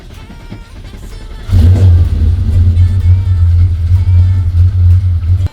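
A car engine with an irregular idle cranks and catches, then settles into a loud, rough, smoky rumble with rising revs, close by.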